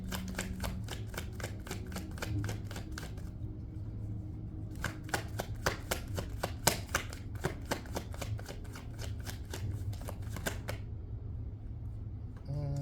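Tarot cards riffle-shuffled in rapid bursts of crisp flicking and slapping, with a short pause between two long runs and a few extra cards dropping loose near the end; close and clear with no talk.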